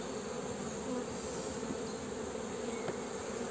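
Honeybees and large drones buzz on a hive frame during an April hive check, a dense, steady, close drone of many wings with no pauses.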